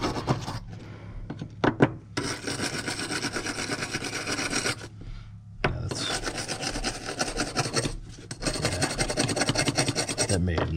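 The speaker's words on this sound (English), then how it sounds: "let's hit it with a brush right now just to make the job easier" A brush scrubs a ratchet part during refurbishment with loud, rasping back-and-forth strokes in long, steady runs. Short pauses break the runs, and there is no talking.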